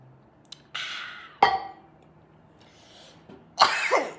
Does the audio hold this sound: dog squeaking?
no